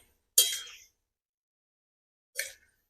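Young khero mixed with green chilies is stirred in a pan for a Bengali village-style recipe, giving two short, bright scraping strokes with silence between them.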